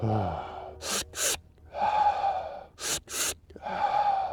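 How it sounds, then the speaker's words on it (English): Breathwork exercise: two sharp, staccato inhales are followed by a longer, airy release breath, then the same pattern repeats, close-up and clear with no talking. "take 2 breaths in, and we'd say like these are more like really directed staccato yang kind of breaths"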